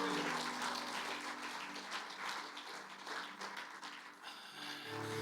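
A Spanish-speaking church congregation claps loudly and steadily for the full few seconds, the applause spread wide and continuous, with music or voices lingering faintly beneath it.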